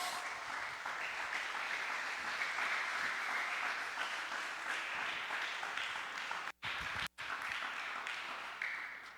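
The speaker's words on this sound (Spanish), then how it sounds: "Si le va a dar un aplauso, déselo a Dios." A church congregation applauds during a sermon, steady clapping carried on at moderate volume with two brief dropouts near the end.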